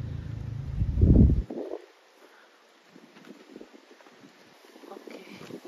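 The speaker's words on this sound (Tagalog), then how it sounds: "Ayan guys, lakas ng hangin ay." Heavy wind buffets the microphone in a loud rumbling gust, then drops to a quieter breezy hiss with light movement.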